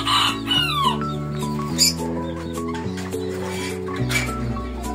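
Serama chickens in a small coop cluck and chirp faintly. Steady, sustained background tones that resemble music dominate throughout.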